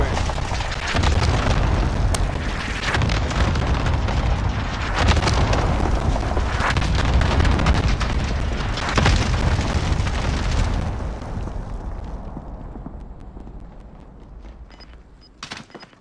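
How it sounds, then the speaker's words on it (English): Airstrike explosions in Call of Duty Warzone, a dense run of heavy booms and rumbling blasts for about ten seconds, then fading into a softer rumble with a few sharp pops at the end. "Airstrike target marked."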